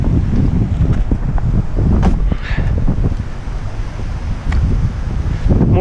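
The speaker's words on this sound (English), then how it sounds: "especially you can hear the wind" Strong wind buffets the microphone on a rooftop beside a river, loud and gusty with rumbling bursts throughout and scattered small knocks.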